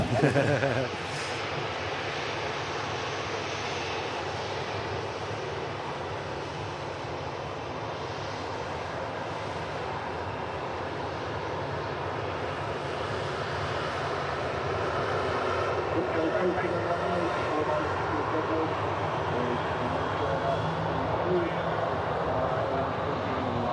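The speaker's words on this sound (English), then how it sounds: "ATR 72 climbing out of Manchester" An ATR 72 turboprop airliner climbs out of Manchester Airport bound for Dublin, giving a steady broadband engine roar that holds at moderate distance and swells slightly toward the end, with a voice talking over it.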